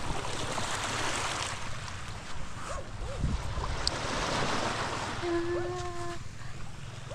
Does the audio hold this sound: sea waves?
yes